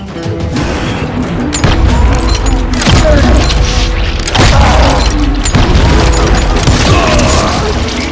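Loud gunfire and booming blasts in the Call of Juarez Gunslinger video game, with repeated heavy shots and crashing impacts over a dense, rumbling battle backdrop.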